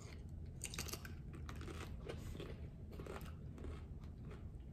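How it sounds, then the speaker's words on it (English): Close, wet chewing and crunching of tacos eaten with the mouth open, a steady run of bites and mastication sounds for several seconds with no talk. "I never chew with my mouth closed"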